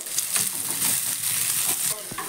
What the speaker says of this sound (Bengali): পেঁয়াজ আর লঙ্কাটাকে প্রথমে আমি দিয়ে দেবো তেলের মধ্যে।